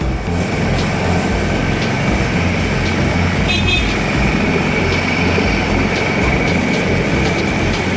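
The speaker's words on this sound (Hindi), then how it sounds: "ये देखिए पुल और पुल से निकलते हुए सबसे छोटी ट्रेन" A small toy train ride crosses a bridge, its steady rumbling clatter running continuously and fairly loud, with a brief horn-like toot near the middle.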